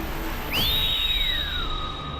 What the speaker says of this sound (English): I love that whistle.